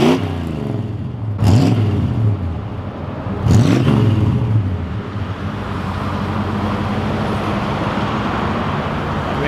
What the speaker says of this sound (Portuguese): Deixa eu dar uma acelerada ali.